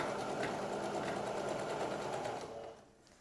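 A sewing machine stitches a skirt waistband in a fast, even mechanical whir that runs steadily close by, then slows and stops near the end.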